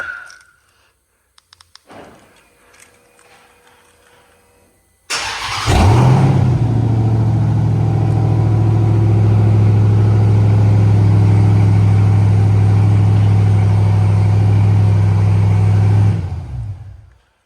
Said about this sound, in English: I want to remote start it with no exhaust on it